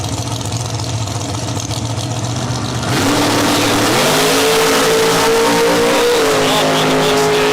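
A Ford Mustang at a drag strip revs, then launches and accelerates hard, its loud engine note climbing steadily in pitch through the gears, close and dominant over the crowd noise.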